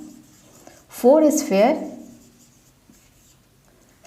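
Writing on a board in a chemistry lecture on solid state and packing efficiency, soft scratching strokes mostly under a man's brief spoken word, close and moderately quiet.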